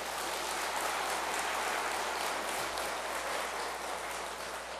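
An audience in a temple dharma hall claps in a steady, dense wash of applause that stays even and moderately loud throughout, with no voices standing out.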